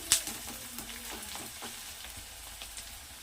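Onions sizzling and frying in a pan, stirred with a steady scraping and crackling under a soft, constant hiss, fairly quiet and close.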